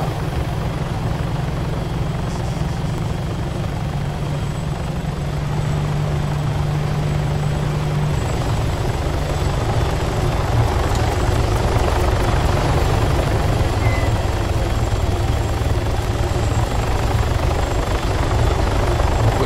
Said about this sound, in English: we always have at least a helicopter here